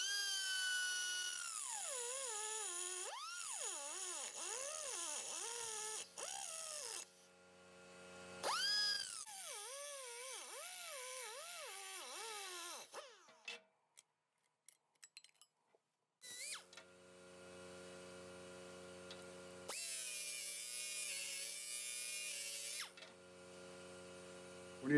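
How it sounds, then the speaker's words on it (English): Small rotary tool with a diamond cutoff wheel cutting a part in two: a high whine rising and falling in pitch as the wheel bites in, with pauses, clicks and a later steady whir. "I'm gonna use a diamond cutoff wheel to cut this into two."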